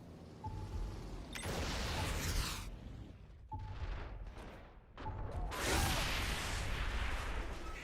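Explosions and gunfire burst out in Saints Row The Third Remastered, with several loud booming blasts and mechanical clatter coming in waves and separated by brief dips.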